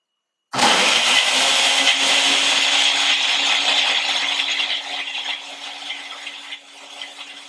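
A blender whirs loudly and steadily, mixing a tropical exotic fruit smoothie with manuka honey; it starts abruptly after a brief silence and runs continuously, easing slightly toward the end.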